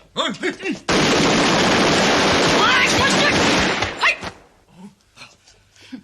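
A sustained burst of rapid gunfire in a film roars for about three seconds, dense and loud, after a shouted Cantonese voice; scattered quieter noises follow.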